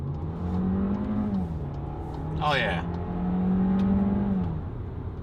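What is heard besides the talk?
2019 Volkswagen Jetta SEL engine accelerating in traffic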